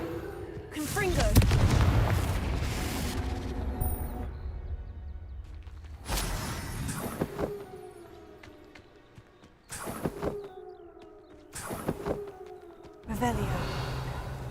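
Confringo fire spells exploding in Hogwarts Legacy: several loud, booming bursts spaced a few seconds apart, each trailing off, with a voice audible between them.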